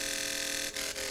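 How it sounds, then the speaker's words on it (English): Noise layer of a synthesized bass in a dance remix production, a dense hissy wash with faint tonal lines that cuts out briefly twice, loud and steady. "and then we have a noise layer"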